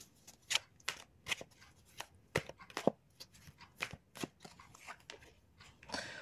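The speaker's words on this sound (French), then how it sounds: "je vais tirer une troisième carte" A tarot card drawn from a deck, a run of crisp, papery card flicks and shuffling snaps at an irregular pace, close and fairly quiet.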